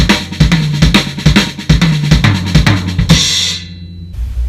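Right-left-left-kick drum lick played fast and repeated, a dense run of crisp snare strokes and deep kick thumps ending on a ringing cymbal crash that fades out.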